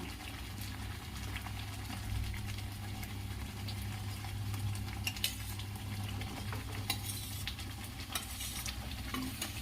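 Fried mixed vegetables go into a pan of sizzling masala and are stirred with a metal spoon, scraping and clinking against the pan over a steady low sizzle, close and moderately quiet.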